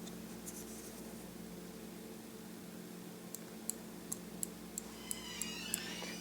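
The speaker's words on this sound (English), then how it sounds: "That clicking is the sound of the switch engaging." A hood latch switch on a 2013 Mazda6 that fails to activate gives a quick series of about six faint, sharp clicks at an uneven rhythm, close by over a steady low hum.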